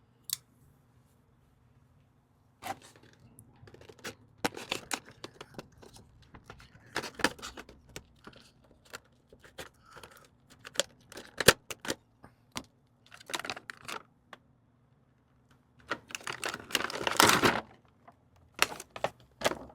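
Spawn action figure being unboxed from cardboard and plastic packaging, with bursts of crinkling plastic, tearing cardboard and sharp clicks and snips scattered between quiet pauses. The handling is close and uneven, with a dense crackling burst near the end.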